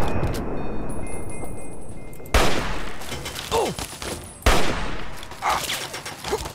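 Gunfire in Fallout 3: sharp, loud shots break out at intervals over a busy background of game sounds, each followed by ringing tails and whooshing effects, with no speech.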